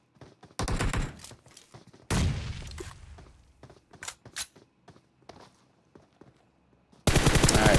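Gunfire in PUBG Mobile comes as loud bursts of rapid automatic fire, broken by a few sharper single shots and soft thuds in quieter gaps, and ends in another loud burst.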